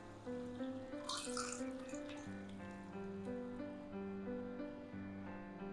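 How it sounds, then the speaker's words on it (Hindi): Boiling water from cooking white black-eyed peas pours into a pot of curry in a steady, continuous splash with a burst of spattering early on, heard alone over background music. "अब हम इसमें सफ़ेद लोबिया डाल देंगे और साथ में पानी भी डाल देंगे जिसमें लोबिया उबाला था।"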